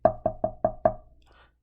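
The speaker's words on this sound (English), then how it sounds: "they heard a knock" Five evenly spaced, firm knocks land on the door of the brick house from the three little pigs tale, close and distinct, followed by a faint trailing rustle.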